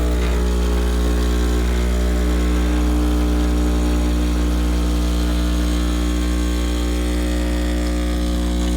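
A cheap $40 espresso machine running a test of its new gasket gives off a loud, steady pump drone with strong low hum, unbroken from start to finish and with no voices.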